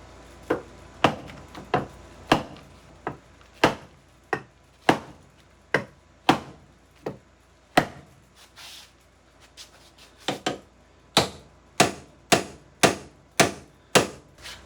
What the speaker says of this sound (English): I'm gonna do a little bit of hammering